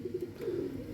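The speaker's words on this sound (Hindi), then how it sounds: "सलारा कबूतर है।" A Salara pigeon cooing close by, a soft low throaty burbling coo that swells and rolls for about a second, fairly quiet and on its own.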